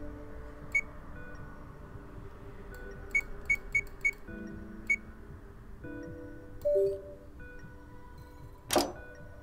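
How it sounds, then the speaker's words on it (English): A barcode reader in the Zero Time Dilemma video game gives a few short electronic beeps and clicks over faint game ambience and tones, ending with one sharper, louder beep. "Hey, this thing just beeped."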